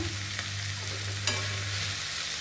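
Vegetables for masala upma stir-fry in oil in a pan, giving a steady close sizzle with a sharp scrape of the spatula partway through; no one speaks.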